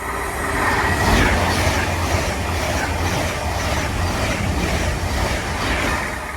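Avanti West Coast Class 390 Pendolino 390.002, running from London Euston to Manchester Piccadilly, passes close by with a loud, steady rumble and rushing wheel and rail noise that holds throughout.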